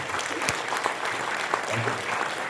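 A hall audience applauds a film director, a continuous crowd of clapping hands with a few sharper individual claps standing out, steady and fairly loud throughout a short stretch.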